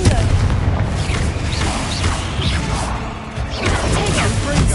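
A Confringo explosive spell goes off with a loud blast in Hogwarts Legacy, a crashing boom amid battle clatter and whooshes, and faint game voices sound nearby.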